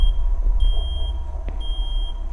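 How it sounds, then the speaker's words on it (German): An alarm clock in a horror video game sounds as a steady, shrill electronic beep that cuts out briefly twice, over a low rumbling drone, without any talking. "Aha, Wecker klingelt."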